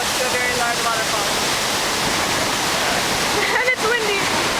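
Roaring wall of broadband water noise up close to Iguazu Falls in Argentina, loud and steady throughout with wind gusting, no talk.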